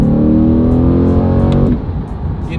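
A Corvette C8 engine revs hard with a loud, climbing harmonic howl near redline, then cuts off abruptly and drops into a low idle rumble. Close and alone, with no talking.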